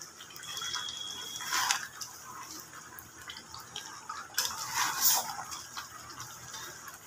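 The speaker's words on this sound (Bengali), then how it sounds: "এবার এই জলটা আমি মাংসের মধ্যে দিয়ে দিলাম।" Hot water poured into a pot of cooking meat, a soft trickling and splashing that swells twice over a quiet kitchen background.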